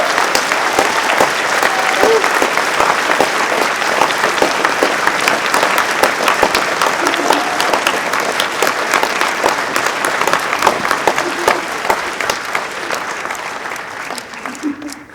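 Loud, sustained applause from a gala audience at Science World during a film festival closing event, dense clapping with a few cheers and voices mixed in, tapering off near the end.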